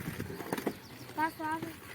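A few irregular hoof clops near at hand, followed by a short voice.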